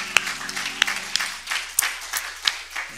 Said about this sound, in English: Why don't you give Jesus a big hand clap of praise?